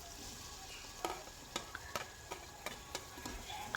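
Tomatoes stirred into ginger garlic paste frying in a pan for egg biryani, a faint, steady sizzle punctuated by about eight soft, regular ticks of a spoon scraping the pan.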